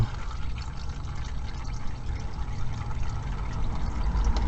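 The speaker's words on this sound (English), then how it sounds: "let it pour out. We'll have some in the pan that we dump" Automatic transmission fluid from a 2005 Dodge Dakota 3.7 pours steadily into a catch pan, a continuous close liquid splatter and trickle with low rumbling underneath and no talk.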